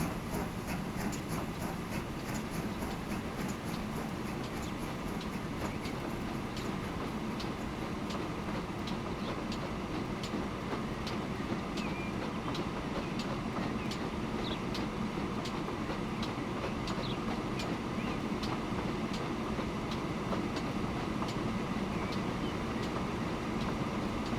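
Continuous rumbling train noise from the video game Transport Fever 2, with faint rhythmic clicking of wheels, steady and unbroken throughout.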